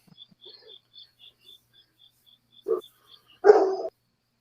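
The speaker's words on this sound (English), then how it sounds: "I hear dogs barking" Puppies bark a few times at close range, two short sharp bursts after quiet, with faint bird chirps repeating in the background.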